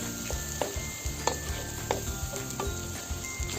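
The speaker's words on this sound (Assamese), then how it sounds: "পিঁয়াজখিনি মই এতিয়া ইয়াত দি দিম" Chopped onions sizzle in oil in a pan while a utensil stirs, giving soft rhythmic scrapes and occasional light taps against the metal.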